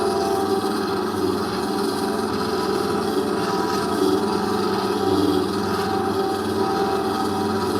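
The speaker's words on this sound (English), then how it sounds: "I am polishing up this rock, making a cabochon" A rock cabochon is worked against a polishing pad, giving a steady, close rubbing and grinding that continues without a break and with no voices.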